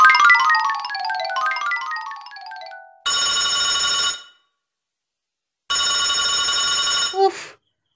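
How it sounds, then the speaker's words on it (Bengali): A landline telephone rings in a home: a descending chime tone first, then two long loud electronic bell rings separated by a short silence, close and alone with no talk. "আবার কে ফোন করলো?"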